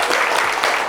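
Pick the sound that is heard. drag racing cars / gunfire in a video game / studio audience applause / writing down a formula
studio audience applause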